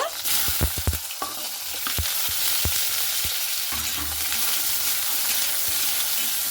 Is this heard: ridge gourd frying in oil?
yes